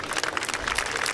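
A large crowd of golf spectators at the U.S. Women's Open in Lancaster applauds, dense steady clapping heard close and loud throughout.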